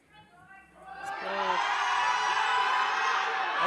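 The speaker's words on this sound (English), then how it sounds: "Joy's getting lots of encouragement from the crowd here." A crowd at a powerlifting nationals meet cheers on a lifter, swelling from a few shouts into sustained loud whoops and yells of encouragement that carry through to the end.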